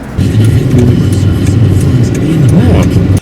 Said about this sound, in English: Still has a little bit of exhaust leak? Yes, my bad.